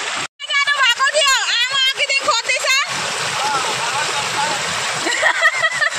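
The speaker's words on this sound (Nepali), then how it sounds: "यस्तो खतरा आज पानी भरेको छ डाइना खोलाको अवस्था रातभरिको पानीले गर्दा र डल्लै खोला भरेको छ" A flooded Diana stream rushes after a night of heavy rain in the Dooars area of North Bengal. A voice talks over the water at first, then a loud, steady roar of churning water carries on alone.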